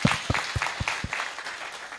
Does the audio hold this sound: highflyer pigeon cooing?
no